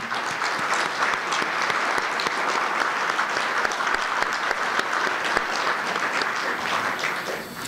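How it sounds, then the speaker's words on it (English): An audience at the Sam Johnson Defender of Freedom Award event applauds Hillwood and its chairman, Ross Perot Jr., with dense, steady clapping sustained at full strength throughout. "please help me with a round of applause for Hillwood and Chairman Ross Perot"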